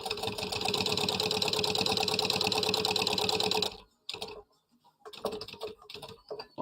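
Home sewing machine running steadily with a fast, even stitching rattle for nearly four seconds, then stopping and restarting in short bursts with brief pauses, close and clear, no talking.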